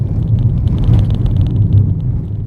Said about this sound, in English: it feels incredibly busy over really poorly sealed surfaces like the one I'm on now